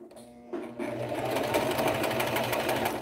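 Sewing machine running steadily, stitching satin bias binding along the outside edge of a garment; a close, continuous mechanical whir starts quietly and then holds at a steady, dense pace.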